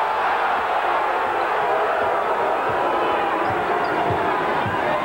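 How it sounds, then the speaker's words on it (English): Crowd at a men's college basketball game at Rutgers, a loud continuous arena murmur and roar with faint ball bounces underneath, steady for the whole stretch. "And the crowd's getting into it."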